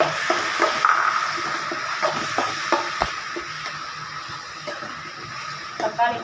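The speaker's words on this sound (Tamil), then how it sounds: "தக்காளி போட்டு நல்லா வதங்கட்டும். தக்காளி இங்கே வதங்கிட்டு இருக்கு." Tomatoes sautéing in a frying pan for a chicken and coconut milk gravy, a steady close sizzle broken by scraping stirs and clinks, with a person talking over it.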